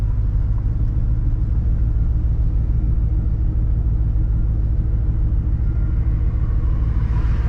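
A Roush Terminator 10th Anniversary Cobra sits at idle, its engine giving a steady, loud, low rumble that holds constant from start to finish without talk.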